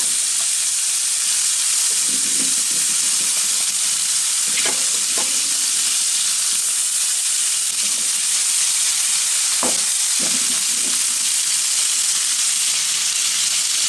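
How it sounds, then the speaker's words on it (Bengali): Koi fish frying in a pan, a steady dense sizzle throughout with a few scattered clinks and stirring knocks, close and loud, no voices. "কই মাছ কাটতে দেখে রানতে দেখে খাইতে দেখে কই মাছের রান্না"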